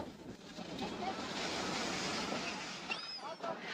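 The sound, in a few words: sea waves on beach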